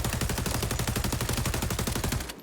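Rapid automatic gunfire in the shooter game XDefiant, a loud, steady stream of close shots for about two seconds before cutting off abruptly.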